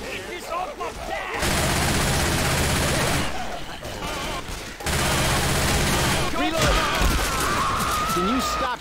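Bursts of rapid gunfire in the zombie shooter Left 4 Dead 2, loud dense volleys in two long stretches separated by brief lulls, with shouting voices and game chatter mixed in.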